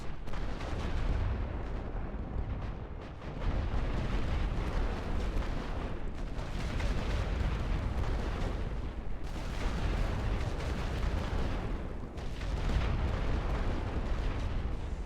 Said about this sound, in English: Set position for area barrage. Ready. Fire all guns.